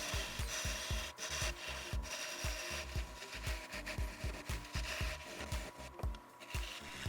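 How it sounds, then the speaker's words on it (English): A wood lathe turns a bowl blank as a tenon is shaped for the chuck jaws, giving a steady rhythmic scraping and rubbing of the tool against the spinning wood, close and continuous with regular low thumps. "I start to shape the tenon that will fit into the jaws of the chuck"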